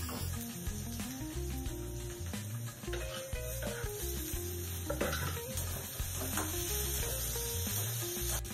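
Chopped onions and tomatoes fry in a pan for a Kolhapur-style dish, giving a soft, continuous sizzle that sits under background music throughout.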